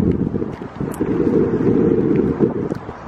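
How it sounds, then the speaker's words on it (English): Breezy outdoor wind on a Toronto day rushes and buffets steadily across the microphone for the whole stretch, loud and continuous with no voices. "the weather is breezy."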